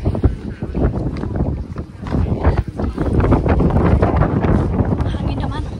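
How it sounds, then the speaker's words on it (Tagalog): Strong wind buffets the microphone on an outdoor terrace in Eindhoven, a loud continuous rumbling roar with gusts, and a voice speaks briefly over it. "Hangin naman."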